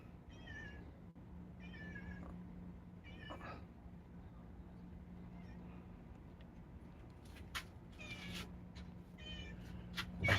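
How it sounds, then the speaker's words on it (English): A cat meowing outdoors, several short faint meows spaced through the first half, followed by scattered clicks and rustles over a low steady hum. "Here comes a cat."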